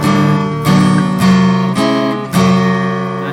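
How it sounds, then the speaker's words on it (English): Acoustic guitar knocked badly out of tune, strummed in four sharp chords, each ringing on with clashing, sour harmonics; loud, close and without voices. "we're going to knock my guitar right out of tune because we need to."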